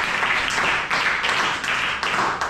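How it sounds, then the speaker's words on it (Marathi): Classroom applause for a student during a ninth-grade science lesson: a steady wash of many hands clapping at once, dense and fairly close, with slight surges and dips over a couple of seconds. "Yes, very good. दिदीसाठी टाळ्या."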